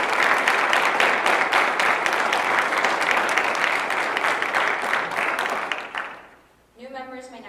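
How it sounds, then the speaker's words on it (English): A high school National Honor Society induction ceremony audience gives new members a sustained, full round of applause that fades out, followed by a brief voice speaking. "Please join me in a round of applause for our new members."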